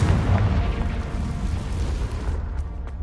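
A Confringo fire spell explosion in Hogwarts Legacy, a loud, dense booming blast with rumbling low end that fills the clip and fades slightly near the end, with a couple of short high zips.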